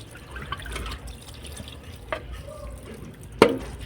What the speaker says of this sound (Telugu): వాటర్ అంతా కింద పడేయాలి.